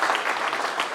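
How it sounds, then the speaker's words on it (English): An audience at a new mayor's inauguration in Taylor claps in a dense, continuous burst of applause, close and sustained for a brief moment. "Jeanette deserves a round of applause."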